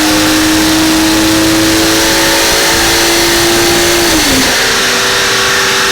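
A BMW M140i engine roars loudly and steadily at high revs on a dyno, with aftermarket exhaust and intake, its pitch holding level before dropping briefly near the end, with no speech.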